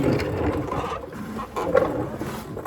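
A socket ratchet tightens the fuel filter on a 2021 EcoDiesel Jeep Gladiator, making a short, fairly quiet burst of mechanical clicking and whirring with no talk.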